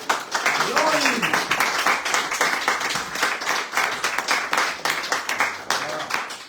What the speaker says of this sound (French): je vais vous laisser applaudir la présentatrice en chef